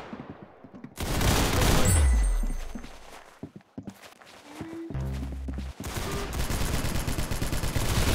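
Rapid volleys of gunfire in the Roblox game Arsenal, loud and close, crackle in clustered bursts, with a sweeping whoosh and thuds mixed in.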